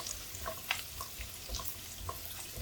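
Finely chopped ginger sautés in a pan, a quiet close sizzle with light stirring taps scattered through it, and no voices.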